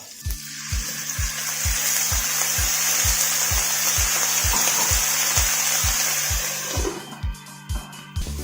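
Chopped tomatoes cooking in a covered pan on a low flame for a Kerala-style prawn roast, a steady loud sizzle and hiss with a regular ticking pulse underneath, fairly close, then clinks and lid sounds at the end.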